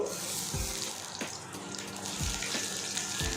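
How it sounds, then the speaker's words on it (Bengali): Small chhena fritters frying in a pan over medium heat, a soft continuous sizzle and bubbling with a few faint clicks, close but quiet. "দেখুন আমি কীভাবে করছি এটা আপনার সঙ্গে দেখাচ্ছি কীভাবে করেছি আমি তো এইভাবে প্রথমে ভেজে নেব"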